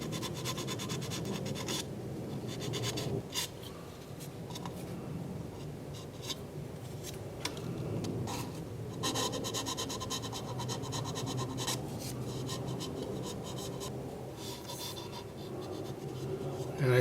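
Hand tool scraping and rubbing across a sharp knot on a wooden bowl during wood turning, a continuous dry rasping with irregular strokes and brief pauses, close and moderately quiet.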